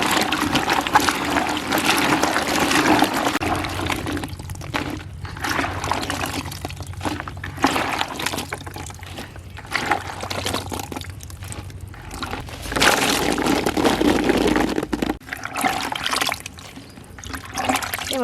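Chopped taro leaves being washed in water in a village kitchen, with continuous splashing, sloshing and pouring water that swells and fades in bursts, close by and without talk.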